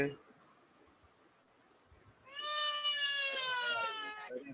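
A loud, sustained wail with strong harmonics starts midway after a quiet stretch, like a young child crying, though it could also be an animal cry.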